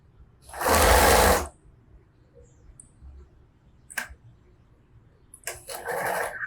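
A sewing machine stitches along the selvage edge of fabric for a tray or basket in short whirring runs: one loud burst, a brief blip and a final longer run, with quiet gaps between.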